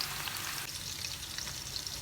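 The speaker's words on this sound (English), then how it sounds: "You should roast both the sides thoroughly by putting the flame in medium." Chicken 65 pieces fry in hot oil in a kadai over a medium flame, giving a steady, dense, close sizzle with no talking.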